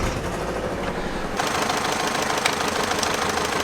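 A car engine with a leaking exhaust manifold gasket runs at a steady idle, giving a continuous rapid ticking, knocking chatter up close that grows a little louder partway through, with no talking.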